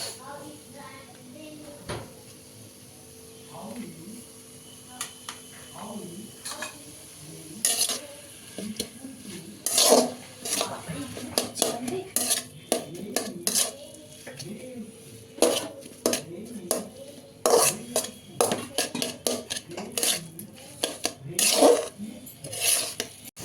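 Cauliflower paratha fries in a pan with a soft sizzle under repeated clanks of a spatula and utensils against the pan, close and intermittent, while a person talks throughout.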